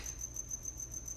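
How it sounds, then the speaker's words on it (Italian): A cricket chirps steadily in a quiet indoor setting, its thin high pulses repeating in an even rhythm over a low, constant background hum. "Non lo vedo, però è un grillo"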